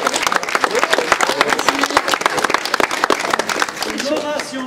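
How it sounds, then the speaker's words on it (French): Audience applause at a gathering in the Dauphiné, honouring two drivers: dense, sustained clapping from a crowd close by, with murmured voices and cheers mixed in throughout. "Je propose qu'on applaudisse Yvan."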